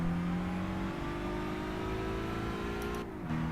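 A car engine in Gran Turismo 5 drones at high revs as it is driven through a licence test, a steady loud whine holding its pitch before the revs dip and climb again near the end.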